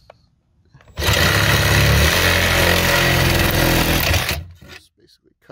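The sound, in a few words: Sawzall reciprocating saw cutting through a car's speaker basket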